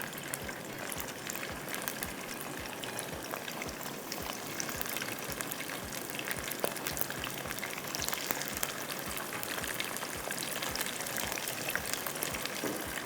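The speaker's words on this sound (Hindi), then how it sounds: "आप हाई फ्लेम पे इसको एकदम से स्टर फ्राई कीजिएगा" Beef undercut stir-fries on a high flame, a steady loud sizzle and crackle with rhythmic scraping and tossing strokes throughout.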